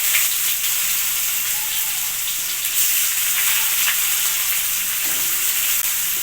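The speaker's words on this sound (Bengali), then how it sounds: "পেঁয়াজটাকে 1 মিনিট ভেজে নেব।" Chopped onions with bay leaf and dried chillies fry in a pan for a fish and ash gourd curry, giving a loud, steady sizzle with faint stirring scrapes throughout.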